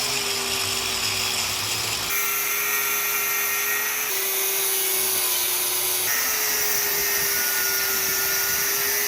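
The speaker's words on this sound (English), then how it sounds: "I'm gonna just start right here, bevel it all the way to right here, both sides." A metal U-bar for a long-tail mud motor being beveled with a power grinder before welding, a steady loud high-pitched whine that runs continuously and close, with slight shifts in pitch as the tool bites into the steel.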